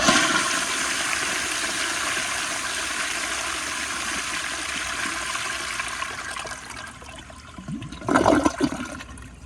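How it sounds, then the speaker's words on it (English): A 1998 American Standard Spacesaver Cadet toilet on a flushometer valve flushes in close-up, a steady rushing stream of water swirling down the bowl, then a louder gurgling burst near the end. "do a close-up flush with it straight down"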